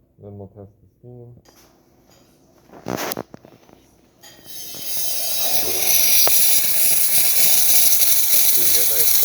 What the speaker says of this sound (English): Then we'll test the steam.